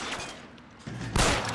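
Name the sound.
gunshots in L.A. Noire video game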